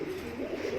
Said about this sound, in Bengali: ভালো ভালো সব জাতের পায়রা আছে।